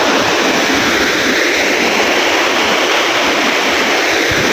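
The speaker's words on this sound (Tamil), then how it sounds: "தண்ணி அற்புதமாக வருகிறது" Steady, heavy roar of water rushing at a dam on the Amaravathi River, loud and close, a dense continuous wash of white noise with no breaks and no voices.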